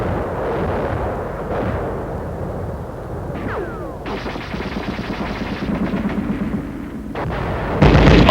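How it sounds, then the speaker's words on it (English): Machine gun and artillery fire in deep snow and extreme cold combat, a continuous dense rattle of gunfire with heavy rumbling blasts, loud and close, ending in a sharp louder burst. "Our machine gun covers the advance."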